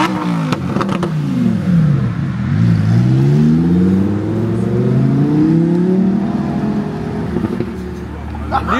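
A car accelerating away on the Hockenheimring track, its engine note sweeping up through several gear changes in a loud, rising rev that fades as it pulls off, with people talking nearby.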